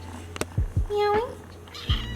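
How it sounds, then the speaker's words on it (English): A hungry kitten meows several times in short, clear cries, some rising and bending in pitch, close by with a few soft knocks and handling sounds around them. "Meowing."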